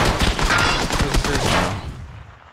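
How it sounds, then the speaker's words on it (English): Rapid gunfire in the PUBG battle royale game: a dense burst of repeated shots, loud and close, that fades away toward the end. "He's still shooting at me."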